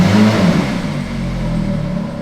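A car revved while in gear with an unexplained mechanical noise, a steady engine drone with a droning low hum and a strange tonal overlay, heard up close without talk.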